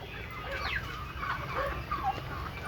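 Small ducks quack and chatter in short, irregular calls, fairly faint over a steady outdoor background hiss.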